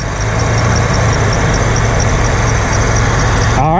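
A 1984 Ford LTD Crown Victoria engine idles steadily with its battery cable removed, a close, loud continuous rumble with a faint squeal running over it and no talking.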